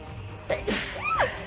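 One loud, close sneeze with a quick intake of breath and an explosive release, then a trailing voiced exhale.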